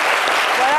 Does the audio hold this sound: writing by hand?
no